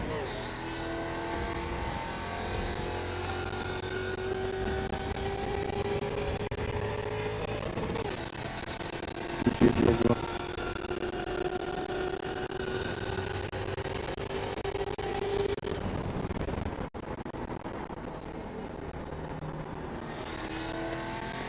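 A race car in the iRacing simulator drives back to the pits after a race, its engine droning steadily at moderate pitch with gear changes and a brief louder rev midway, continuous and close.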